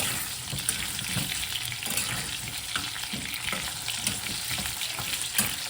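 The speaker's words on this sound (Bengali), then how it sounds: "আমি খুব বেশি ভাজবো না, জাস্ট হালকা করে ভেজে নিচ্ছি।" Potatoes lightly frying in a pan for dal khichdi, a continuous close sizzle with regular stirring and scraping strokes throughout; no one speaks.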